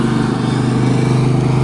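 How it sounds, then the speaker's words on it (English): Loud, close lawnmower engine running in a residential neighborhood, a constant rough buzzing drone with a fast rhythmic putter and no breaks. "here's the lawnmower again"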